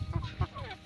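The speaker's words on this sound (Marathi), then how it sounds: "ह्याच्यात आहेत कोंबड्या." Chickens in a farm shed give a few short, close clucks in a quick burst, with some faint background noise.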